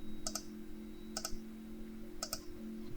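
Three sharp double clicks of a key being pressed on a computer keyboard while drafting in Fusion 360, evenly spaced about a second apart, close and quiet over a faint steady hum, with no talking.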